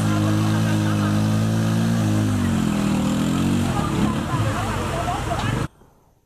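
A motor tricycle engine idles and revs while the vehicles sit stuck in a water-filled gully, the motor droning loudly up close with a shifting pitch, then cutting off abruptly near the end, with people talking in the background.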